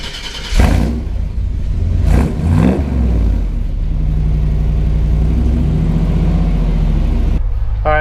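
A 1963 custom quad-cab truck engine is cold-started. It cranks, catches with a couple of loud revving bursts, then settles into a steady, loud, rumbling idle that fills the rest of the clip.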